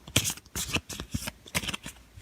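A deck of tarot cards being shuffled by hand, several quick riffling bursts in a loose rhythm, close and crisp with no talk over them.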